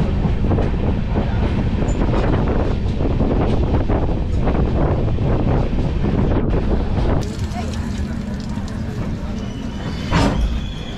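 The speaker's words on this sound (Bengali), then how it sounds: "হাওড়া থেকে 176 কিলোমিটারের জার্নি কমপ্লিট করে আমাদের ট্রেন চলে এলো রামনগর বেঙ্গল স্টেশনে।" The 12857 Tamralipta Express from Howrah pulls into Ramnagar Bengal station. Loud, close wheel rumble and clatter with wind buffeting at first, then it eases to a steadier hum as the train slows.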